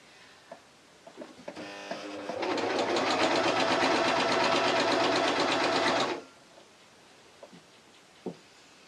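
A sewing machine stitches a seam on a T-shirt in one loud, steady run of about four seconds, its needle chattering rapidly, with brief start-up ticks before and faint handling clicks after.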